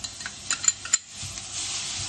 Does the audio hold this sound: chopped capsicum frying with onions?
yes